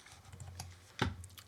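Keys pressed on a computer keyboard for a Command B shortcut, a few soft, quiet clicks followed by one sharper, louder tap near the end.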